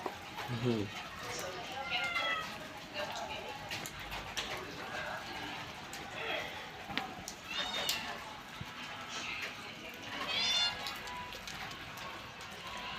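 A pet cat meows several short, faint times at intervals, mixed with soft background noise and occasional bird-like chirps.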